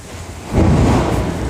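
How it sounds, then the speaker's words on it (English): Thunder during a rainstorm, a low, deep rumble that swells suddenly and then rolls on steadily, heard alone over a hiss of rain. "That was thunder."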